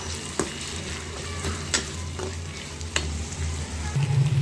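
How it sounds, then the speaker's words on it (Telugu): Brinjal pieces fry in a pan for a vankaya gojju curry, giving a soft continuous sizzle broken by a few sharp clicks and scrapes of a spoon stirring against the pan. "బాగా కొంచెం లైట్ రెడ్ వచ్చేదాకా ఫ్రై చేసేసుకోవాలి"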